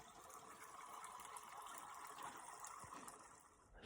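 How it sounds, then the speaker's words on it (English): A small spring flowing in a steep canyon, a faint, steady wash of running water with no talking. "There's the flow. A nice little spring. And it flows."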